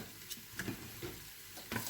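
Dough for an Arabic date-syrup dessert fries in hot oil, a quiet, steady sizzle broken by a few soft taps and clicks of stirring.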